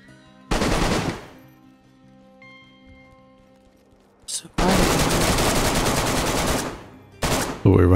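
Sustained automatic gunfire in the survival shooter DayZ, loud close bursts of rapid shots, a long continuous volley in the second half, then a short final burst, with faint background noise between.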